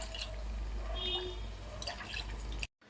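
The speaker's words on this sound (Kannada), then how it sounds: "ನೋಡಿ, ನಾನು ಅದೇ ನೀರು ಹಾಕ್ಕೊತಾ ಇದ್ದೀನಿ." Strained water is poured into sambar, a close, steady trickle and drip of liquid over a low hum, ending abruptly in silence.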